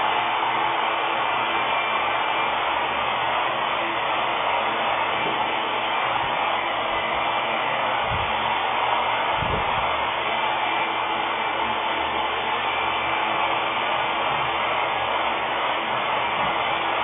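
A hair dryer blows with a constant, whooshing airflow throughout, loud and unbroken, with a couple of faint low bumps.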